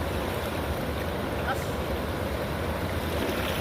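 A strong water current at night during cast-net fishing, a dense, loud continuous rushing and churning roar that stays even throughout.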